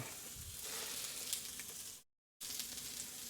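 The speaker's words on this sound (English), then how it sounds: "So that's the sizzle that we're hearing." Water sizzles in a pan on a stovetop at its lowest heat, a steady close crackling hiss that cuts out briefly before resuming.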